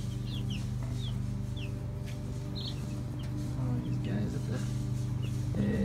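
Cornish Cross broiler chicks and roosters in a brooding pen, with scattered high peeps and soft clucks over a steady low hum, moderately close and continuous.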